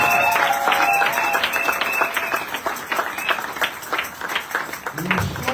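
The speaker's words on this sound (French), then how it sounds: "Acclame pour moi." Church congregation breaking into steady applause during a Sunday service, a dense wash of clapping filling the room with crowd voices mixed in throughout.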